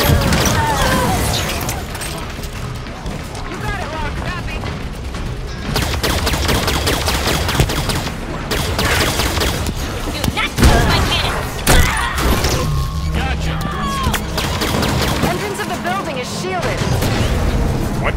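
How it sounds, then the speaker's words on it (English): Cannon fire and explosions from a Halo 5 battle, dense bursts of gunfire and booming blasts running continuously at close range, with voices talking over the combat. "Three cannons here. Take them down quick."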